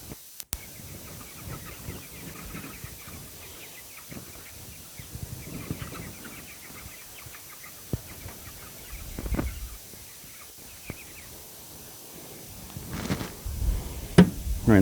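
A flock of chickens in a Salatin chicken tractor on a homestead cluck softly and steadily at close range, with occasional thumps and rustling as the pen shifts forward.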